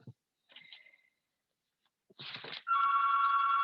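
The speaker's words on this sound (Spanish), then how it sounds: "Me está sonando un teléfono fijo, pero no lo voy a atender" A landline telephone rings loudly and steadily for the last second, its electronic double-toned ring starting abruptly after a few short, faint rustles and knocks. No one speaks.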